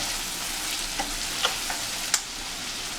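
Vegetables and a seasoning cube for Nigerian party fried rice stirred in a frying pan, a soft steady sizzle with a few light spatula taps scattered across it.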